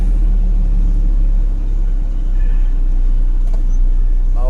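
Heavy, slow-moving road traffic crawls toward the Mexico exit, a close, continuous low engine rumble and road noise with no one talking.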